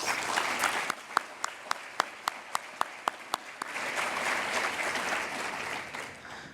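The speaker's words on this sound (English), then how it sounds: "That in itself deserves another round of applause." Applause from an audience at a student awards ceremony runs throughout as a steady wash, with a regular series of sharp, louder claps or taps standing out for the first few seconds before the clapping swells fuller.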